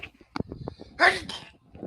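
A single sharp sneeze bursts out midway in the video game Neverwinter Nights, preceded by a few soft breaths and small vocal sounds, close and fairly quiet overall.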